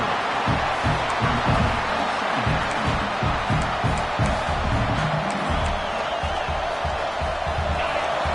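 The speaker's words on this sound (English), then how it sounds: "It's early, but this crowd is fired up. Listen to this noise here." A fired-up football stadium crowd roars continuously, a dense wash of cheering and noise with scattered bursts and thumps all the way through.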